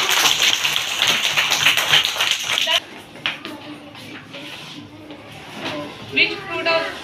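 LKG children in a school classroom clap together in a bright, dense burst for nearly three seconds, then it cuts to a quieter room with scattered taps and faint voices.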